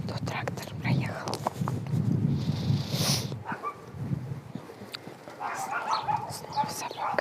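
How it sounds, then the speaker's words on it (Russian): A dog barks repeatedly in the distance outdoors, cutting through quiet whispered speech close to the microphone. "Снова собака."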